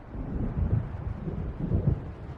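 Rumbling thunder of an approaching storm in Alan Wake Remastered, a low continuous roll with wind, swelling and easing, heard alone without voices.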